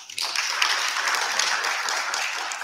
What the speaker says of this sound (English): I think Lucara Botswana deserves an applause.